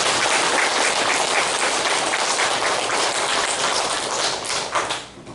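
A church congregation at a Sunday worship service gives warm, dense applause that runs strong and steady, then fades out over the last second.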